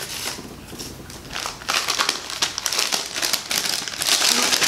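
Cute wrapping paper crinkling and tearing as a small gift item is unwrapped close up, continuous rustling and crackling that grows louder in the second half.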